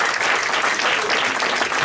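Church congregation clapping loudly and steadily in praise during a worship service, a dense continuous wash of palms with no talk over it.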